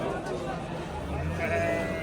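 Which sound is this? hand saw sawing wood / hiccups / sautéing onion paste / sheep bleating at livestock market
sheep bleating at livestock market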